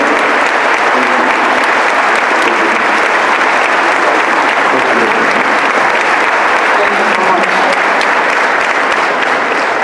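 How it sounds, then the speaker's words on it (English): Loud, sustained applause from a large audience, steady clapping filling the whole stretch without letting up. "Please take the applause from everyone."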